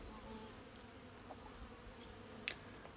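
A steady drone of honey bees fills a long mini nuc hive packed with brood, a close continuous hum with a brief sharp tap near the end.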